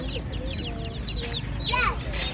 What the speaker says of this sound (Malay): Ini ayam kampung. Dalam ayam kampung ni macam ganas sikit.